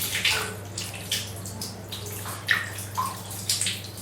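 Cold water is poured from a bucket over a person's knees, giving a continuous splashing and gurgling that rises and falls in close, uneven bursts.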